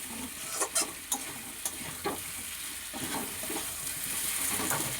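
Potatoes, onion and spices fry together in a pan for a thin chicken curry, a steady close sizzle with a few sharp clinks from stirring early on, with no talk.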